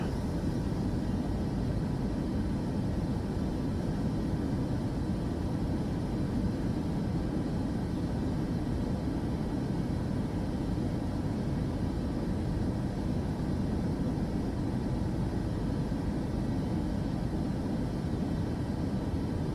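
A Boeing 737 takes off in Microsoft Flight Simulator 2024, giving a steady, loud jet engine roar with broad rushing noise that holds constant for about twenty seconds without talking.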